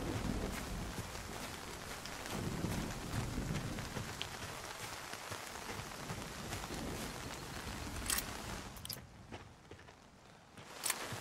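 Rain falls in the Nightingale video game, a dense continuous patter with scattered sharper drops and occasional soft footsteps, steady throughout with no voices.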